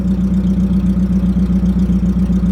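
A Mercedes-Benz car engine idles loud and rough with no exhaust, a close, throbbing low rumble pulsing in a steady, slightly uneven rhythm.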